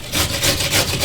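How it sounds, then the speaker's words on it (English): A raw carrot is grated for a St. Lucian-style one-pot kingfish dish, giving about a second of steady, rhythmic scraping strokes that are close and fairly loud, with no voices over them. "I'm gonna grate the carrot so it just melt in there"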